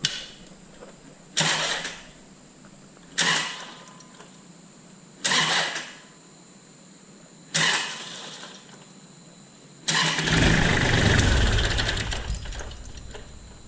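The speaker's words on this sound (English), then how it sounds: "I'm just going to crank the engine over just a little bit." A Kubota L3400 tractor engine cranks over in four short, evenly spaced bursts, then catches into a sustained rough rumble.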